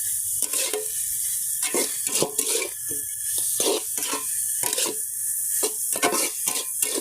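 Leafy greens being fried for shak bhaji in a pan, with crackling sizzle broken by repeated scraping stirs at an uneven rhythm, close and fairly loud, with no talking.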